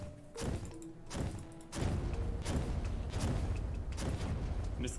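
Inferno Fork weapon in the Terraria video game setting off a rapid series of about six loud, booming explosive thuds, each burst crashing in quick succession with no pause between them.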